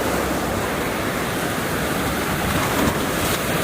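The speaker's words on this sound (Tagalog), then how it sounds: "Pagbaba natin, lalong lumakas yung alon" Strong sea surf rolls in at Playa Montaña beach resort in Batangas as a steady, loud, broadband roar with little variation. No voices are heard.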